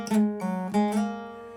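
Electric or acoustic guitar picking an opening lick, a few clear notes with hammer-ons and slides ringing out alone, close and fairly loud, then sustaining and fading.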